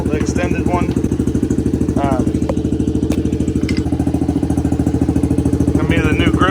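A small Honda ATC70 three-wheeler fitted with a CRF110 engine idles steadily while warming up, a close, even putter that runs throughout as someone talks over it.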